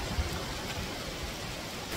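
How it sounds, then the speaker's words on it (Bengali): Steady rain hisses down in a dense, even wash of noise, continuous throughout with no voices. "ওই যে বৃষ্টি হয় প্রচুর বন্ধুরা"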